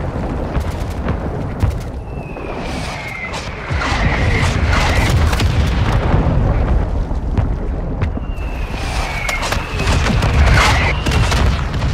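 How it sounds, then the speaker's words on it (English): Mortar strike explosions in the shooter game Modern Warfare 2, rumbling as heavy booms with whistling incoming shells, loud and sustained with two waves of impacts and no talk over them. "Mortar strike inbound."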